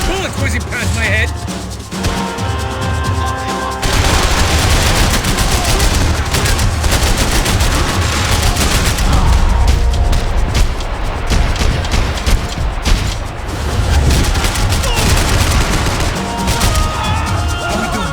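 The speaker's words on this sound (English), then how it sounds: "Bullets whizzing past my head!" Heavy gunfire in the action game Max Payne 3, with sustained loud automatic bursts, cracking impacts and bullets whizzing past in a dense, continuous firefight, no voices.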